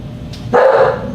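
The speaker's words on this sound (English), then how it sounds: "You gotta excuse the dogs barking," Dogs barking indoors: a single loud, fairly close bark or short yelp burst standing out against a quiet background.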